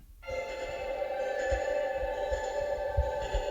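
A reversed guitar recording, pitched up one octave, swells in after a brief silence and hangs with heavy reverb, a smeared, droning texture with faint low throbbing beneath.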